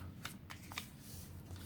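A sheet of printer paper is folded in half, giving a few faint, close crisp rustles and creases with short pauses between them, no talk.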